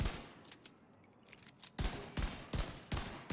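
Gunfire in The Division 2 comes as a few scattered shots, then a run of four or five loud, sharp cracks in quick succession, close up and with no talking.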